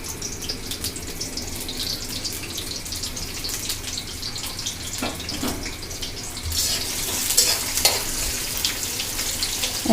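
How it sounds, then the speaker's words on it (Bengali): Chopped onion and bay leaf fry in a pan of oil for a chicken and mung dal dish. A steady, close sizzle runs throughout and grows louder and brighter partway through, with a few soft stirring knocks and no talking. "প্রথমে পেঁয়াজ কুচি দেব, এবং তেজপাতা দিয়ে দেব।"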